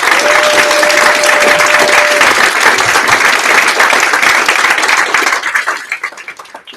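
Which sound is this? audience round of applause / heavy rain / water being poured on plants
audience round of applause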